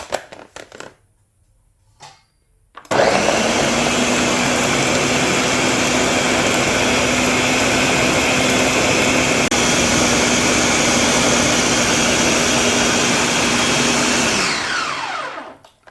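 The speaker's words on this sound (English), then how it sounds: "I'm just going to cover and blend." After a brief quiet start with a couple of small knocks, a blender roars loudly and steadily for about twelve seconds blending Jamaican green seasoning, then winds down.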